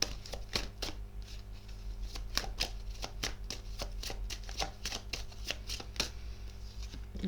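Playing cards being shuffled for a card reading, a steady run of soft crisp riffles and flicks over a faint low hum, close and quiet, with no talking.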